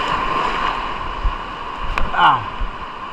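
Large waves wash steadily at high tide along a shore where someone is fishing with ultralight casting gear. The surf makes a continuous rushing wash with a brief swell of louder water near the end, under faint voices.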